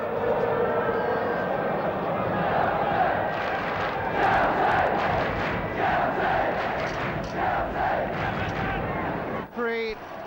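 Big match-day football crowd of about 50,000 in a First Division stadium, a loud continuous roar and murmur with swelling cheers and shouts throughout, dropping briefly near the end.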